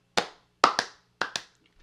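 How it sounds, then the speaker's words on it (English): Five sharp hand claps ring out in an irregular pattern, one single clap then two quick pairs, close and fairly loud with brief decays in an otherwise quiet room. "what are we clapping for?"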